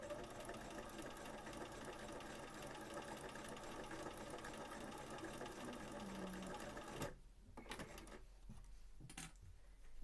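A sewing machine stitching a Victorian skirt whirs in a fast, continuous mechanical run for about seven seconds, then stops and gives a couple of short bursts; fairly quiet, with no talking.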